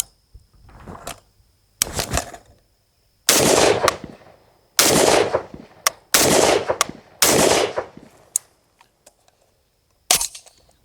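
An FAL rifle fitted with a retro front grip fires several sharp bursts and single shots, loud and close, separated by short silences.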